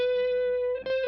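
A sustained synth-like tone runs through a mono modulated delay set to a single 40 ms echo with no feedback, giving a doubled, slightly thickened sound that briefly wavers near the end.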